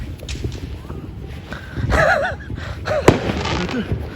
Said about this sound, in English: It's a firework collection of 4th of July on television.